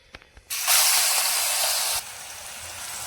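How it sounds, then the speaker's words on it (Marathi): Cumin and mustard seeds drop into hot oil for raw mango chutney, setting off a loud, steady hissing sizzle that starts abruptly, holds for about a second and a half, then settles to a softer crackle. "आता हे तेल गरम झालेले आहे, तर जिरा मोहरी टाकून देऊया"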